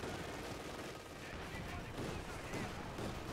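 Light machine gun fire from the Company of Heroes 2 video game plays as a dense, continuous rattle of battle noise, held at a steady level throughout.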